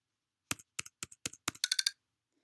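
The Option key on a Mac keyboard is tapped five times in quick, crisp clicks, turning on mouse keys; a short, bright alert tone follows right after.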